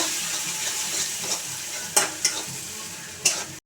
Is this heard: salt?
yes